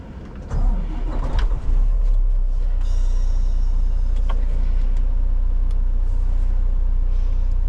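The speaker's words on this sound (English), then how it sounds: "Start the truck up." A truck engine starts up at close range: a brief cranking burst, then the motor catches and settles into a loud, steady low rumble that holds to the end.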